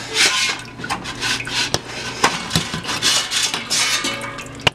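A metal strainer lifted out of a pot of shrimp stock made from shrimp tails, shells and peppercorns gives close metallic scrapes, knocks and sharp clanks against the pot rim, with light dripping swishes between.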